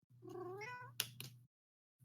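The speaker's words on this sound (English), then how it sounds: "I hear a fucking cat" A single cat meows clearly and close by, a rising drawn-out cry that ends in a couple of short sharp clicks, followed by silence.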